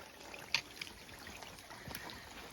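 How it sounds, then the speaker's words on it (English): Water runs down a stream in a valley below a hiking trail on the Appalachian Trail, a soft continuous trickle and hiss with a few small splashes and no talking. "I can hear water running down in the valley below"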